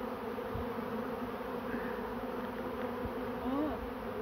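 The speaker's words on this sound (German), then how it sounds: "Mein ganzes Bein ist voll mit Bienen." A swarm of honey bees buzzes close by during a bee show, a dense continuous hum with occasional louder passes of individual bees near the microphone.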